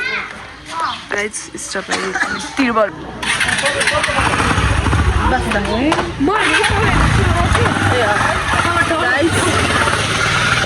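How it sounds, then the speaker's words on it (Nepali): A Royal Enfield Bullet motorcycle engine runs loudly with a deep thumping note while children chatter and shout nearby. "खासबारी बाइक स्टार्ट गरिसक्नु भएको छ हाम्रो यो भनेको बुलेट बाइक हो"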